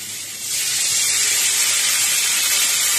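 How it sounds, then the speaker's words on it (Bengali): Hot water is poured into a pot of spiced potatoes for dum aloo, starting with a short quieter lead-in and then becoming a loud, steady, close hiss that sounds like sizzling and bubbling water, with no talking. "আলুর সাথে মশলাগুলো ভালো মতো কষানো হলে দিয়ে দিতে হবে পরিমাণ মতো গরম জল"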